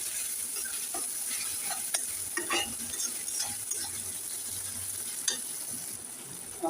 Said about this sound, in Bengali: কিছুক্ষণ ভাজবো পেঁয়াজ টমেটোটা একসাথে